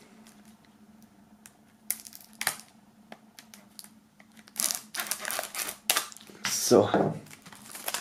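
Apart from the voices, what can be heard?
opening a shrink-wrapped album box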